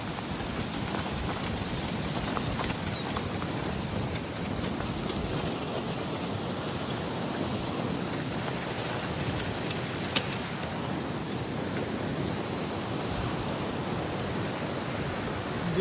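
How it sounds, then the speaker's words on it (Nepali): Heavy rain and floodwater pour down from above across a stream-cut road on the way to Budhichaur, making a steady, loud, unbroken rushing roar that holds evenly throughout with no talking. "माथिबाट पानी आएर एकहोरो पानी भइदियो"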